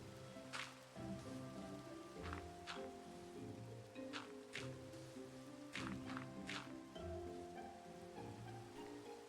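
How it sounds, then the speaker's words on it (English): Steady video-game rainfall patters over a background of soft, sustained musical tones, with a few brighter drop-like ticks scattered throughout. "it's raining."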